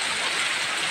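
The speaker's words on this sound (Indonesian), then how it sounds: "Hujan terus nih." Heavy rain pours down in a dense, steady hiss that fills the whole moment, with no breaks or voices, loud and close as if falling all around.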